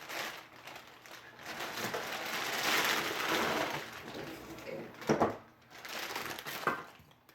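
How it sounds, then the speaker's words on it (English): Plastic packaging crinkles and rustles around a Bachmann C-19 G scale locomotive and tender as they come out of the box, a steady close crackle with a sharper burst of handling near the end. "We'll remove these from the packaging."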